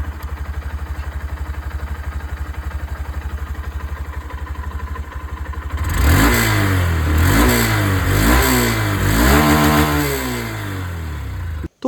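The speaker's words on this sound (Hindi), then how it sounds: "सबसे पहले आप लोग जो एग्जॉस्ट साउंड है वो सुन लीजिए।" A 2025 Honda SP125 125cc motorcycle idles with a steady low putter from its exhaust, then revs up several times in quick rising and falling bursts, loud and close with nobody talking.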